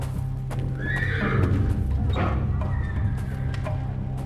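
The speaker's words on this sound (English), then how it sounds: "The sounds of fighting are making the horses especially nervous today." Horses in the Secret Files 3 video game whinny in a bright, rising neigh over close, steady clip-clop of hooves, all heard without talk.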